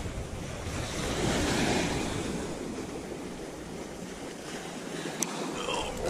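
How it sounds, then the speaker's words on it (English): Waves of an incoming tide wash up a beach in a broad, steady surf roar mixed with wind buffeting the microphone, with a faint click near the end. "this tide's coming up really fast"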